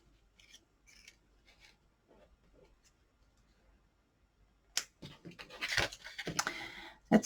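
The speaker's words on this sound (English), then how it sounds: "So I'm going to cut this black down as well." Scissors snipping through black cardstock: a few faint quiet snips at first, then a louder run of crisp, rasping cuts close by, with no talking.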